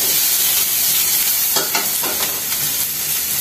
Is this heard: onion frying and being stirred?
yes